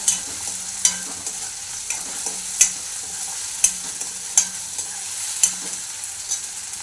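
Tomatoes sauté in a hot pan with a constant sizzle, while a spatula scrapes and taps the pan in sharp regular strokes about once a second. The sound is close and fairly loud, with no voices.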